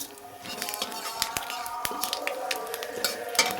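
Bay leaf, a dried red chilli and five-spice seeds crackle and sizzle in hot oil with melted sugar in a pan, a steady close frying hiss broken by sharp pops and spits.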